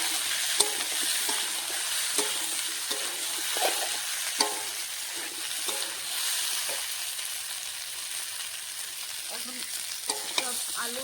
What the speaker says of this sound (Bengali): সিম ফুলকপিটা একসঙ্গে ভেজে নিয়ে